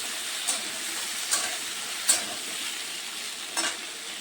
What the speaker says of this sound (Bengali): আলু আর পটলগুলোকেও আমি একটু ভালো করে ভেজে নেব।